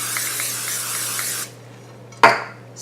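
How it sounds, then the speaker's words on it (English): Cooking spray hisses steadily into an 8-inch square baking pan for about a second and a half, then stops, and a short knock follows, likely the can or pan being set down. "I use an 8-inch. I am just going to lightly spray it."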